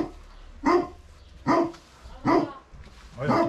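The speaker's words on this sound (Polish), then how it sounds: "O, jaki pies duży." Large dog barking: four deep, evenly spaced barks about a second apart, fairly close, with faint background noise between them.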